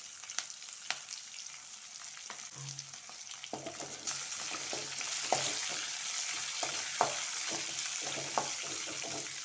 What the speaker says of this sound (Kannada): ನೋಡಿ, ಮೆಣಸು ಕೂಡ ಫ್ರೈ ಆಗಿದೆ.